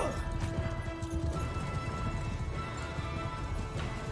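Horse hooves clatter in the medieval battle game Mount & Blade II: Bannerlord, a busy rhythmic clip-clop under a dense wash of battlefield noise, with a brief whinny-like tone early on.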